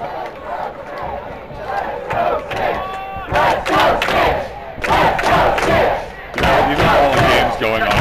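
Spectators at a quidditch cup final between University of Texas and Lone Star QC roar and shout in loud, surging waves, with whistles and bursts of yelling rising and falling throughout.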